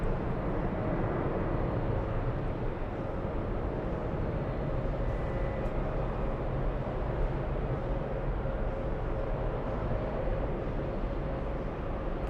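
A French airliner takes off at JFK airport, sending out a continuous heavy engine rumble that stays loud and steady throughout, heard from some distance with no speech.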